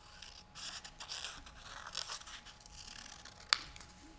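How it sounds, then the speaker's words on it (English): Scissors snip through paper in a quiet room, producing faint, soft cutting and rustling sounds that end in one crisp, louder snip near the end, with no voices. "I'm also going to cut this"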